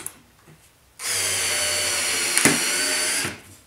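A Ryobi TEK4 cordless screwdriver whirs loudly as it drives a screw into a wood board, a steady motor whine lasting over two seconds with a brief strained bump midway before cutting off.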